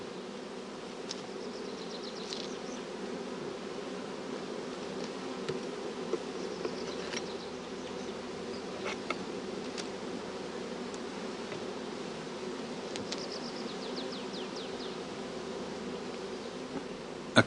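Honey bees fly around a hive split into a queenless part with a honey super, making a dense, continuous buzzing hum close by, with occasional individual bees whining past.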